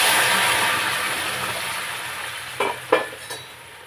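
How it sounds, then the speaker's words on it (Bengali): Taro and spices sizzle steadily in a hot pan, then hot water is poured in, bringing a few sharp hissing bursts near the end before the frying quiets. "দেখো কচু আর মশলা ভালো করে কষে নিয়েছি এইবারে আমি জল দিয়ে দেব"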